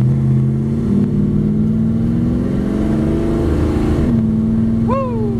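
A 1955 Chevrolet Bel Air two-door post resto-mod with a ZZ4 V8 and 700R4 automatic pulls away on an open road, its loud engine note climbing steadily, easing off briefly near the end, then rising again.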